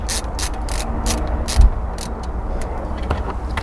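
Metal bracket fitted onto a PC power supply that then slides into its bay inside a computer build in a Tesla Model Y, giving a run of close, sharp clicks and rattling mechanical ticks over a low rumbling background.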